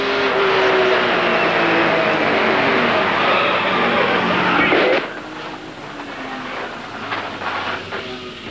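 Onboard sound from inside a 1998 ASA stock race car on track at LaCrosse Fairgrounds, a loud steady engine roar that drops off abruptly around midway to a lower, rougher rumble.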